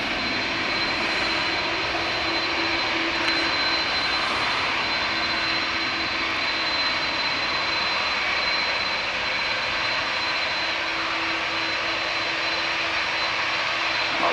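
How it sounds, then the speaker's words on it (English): An Airbus A330 jet takes off at Manchester Airport, giving a loud, steady engine roar that holds without letup from start to finish. "so I can get a good full takeoff of the A330."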